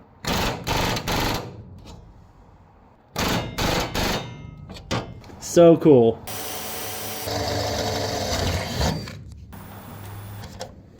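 Rivets are set into new channel on a 1949 Spartan Manor aluminum trailer, sharp rapid bursts of a rivet tool in clusters with pauses, a brief squeal and a longer machine whir, a person speaking briefly between.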